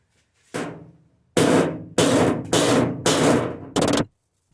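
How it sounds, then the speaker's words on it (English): Five hard metallic strikes ring out in quick succession after one softer knock, an edged hammer and dolly on a Studebaker Hawk car door, each a loud, sharp impact with a brief decaying ring, close by. "Using the hammer with the edge on it so that I can concentrate that force on the ridge"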